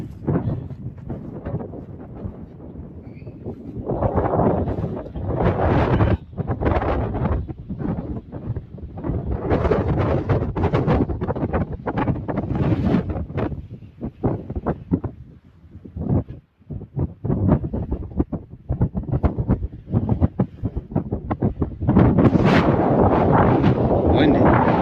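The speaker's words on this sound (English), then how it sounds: "Windy." Strong wind buffets the microphone in heavy gusts and roars, loud and continuous with brief lulls.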